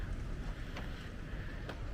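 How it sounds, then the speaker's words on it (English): Steady wind blows outdoors on an open site near the city outskirts, a continuous low rumbling buffet across the microphone with a couple of brief faint gusts and no talking. "The weather is windy"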